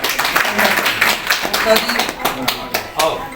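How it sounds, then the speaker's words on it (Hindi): Clapping from a gathering held by a Hindu service organization honoring sadhus and sanitation workers, crisp close hand claps in an uneven rhythm mixed with people talking over them. "अजय शर्मा भाई के लिए एक बार जोरदार तालियां"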